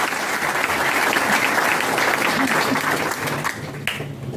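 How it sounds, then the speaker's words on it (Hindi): Audience applause at a political gathering about the Ambedkar Bhawan, a broad steady wash of clapping from a crowd that holds for several seconds, loud and dense, with faint voices mixed underneath before it thins toward the end. "जोरदार ताली"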